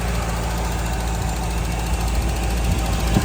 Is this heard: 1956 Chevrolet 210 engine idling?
yes